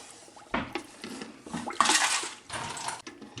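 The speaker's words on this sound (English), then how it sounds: "I'm going to stir it up a little bit first." A spoon stirring pickle spices, salt and liquid in a pot, quick scraping and sloshing swirls with a few clinks against the metal, close and fairly loud.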